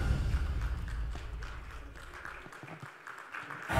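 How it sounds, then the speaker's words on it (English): Audience applause in a hall at an HR leadership awards ceremony, honouring an award winner. Dense clapping runs steadily for several seconds, dipping briefly near the end before swelling again. "Let's give a big round of applause."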